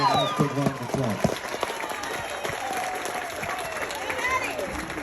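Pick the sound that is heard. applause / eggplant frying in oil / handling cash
applause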